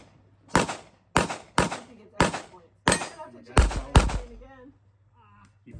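Rifle gunshots at a steel-target shooting match, each sharp crack followed by a ringing metallic clang of bullets striking steel, about seven shots in an uneven rhythm, with a faint voice under the last ring.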